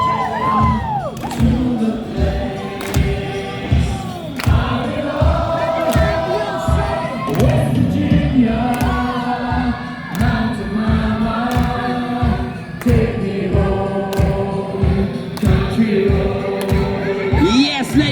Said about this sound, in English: clapping their hands, stamping their feet, and making as much noise as they can in time with the music